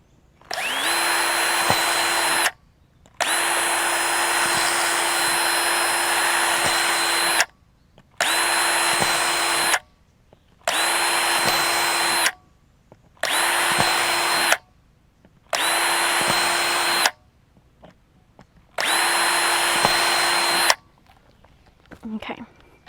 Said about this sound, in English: we're just going to drill several holes into the lid of this container real quick.